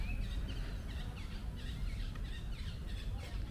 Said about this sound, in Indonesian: Ini ada suara burung,